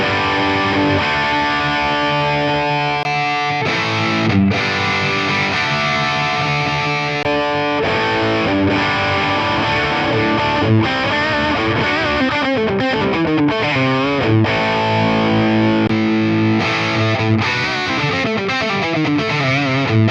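Electric guitar played through the dirty amp model of an Ax8 with its matched cabinet: thick, heavily distorted chords and riffs, loud and continuous with sustained ringing notes, no talking.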